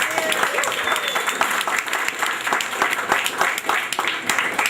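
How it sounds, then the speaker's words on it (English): A crowd applauds steadily, dense clapping close by, with a few voices mixed in under the clapping. "a round of applause for city councilors"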